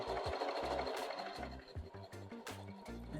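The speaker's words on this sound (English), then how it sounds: "it's going to do another left and right stitch to finish where it started" A Singer 4423 Heavy Duty sewing machine stitches a buttonhole, finishing with left and right stitches in a fast, steady mechanical whir with a rhythmic needle thump, close and alone.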